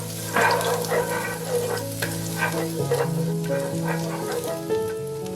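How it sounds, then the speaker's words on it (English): Chopped garlic and shallots sauté in oil in a hot skillet, giving a steady close sizzle broken by the scrape of stirring. "Add half of your chopped garlic and shallots, and sauté until they're golden and fragrant."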